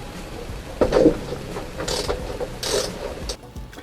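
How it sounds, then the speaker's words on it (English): Ratchet fitted with a 17mm socket working loose the engine cover bolts on a Honda CB500X motorcycle, giving a few close, dry clicking bursts in a quiet workshop. "just need to remove this cover now. It's a 17mm socket."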